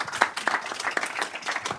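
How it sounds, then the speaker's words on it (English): An audience at a bank supervision panel claps in a steady, dense round of applause, with sharper individual claps popping out now and then; it sounds fairly close and fills the whole short stretch without talk. "If you could please join me in a round of applause."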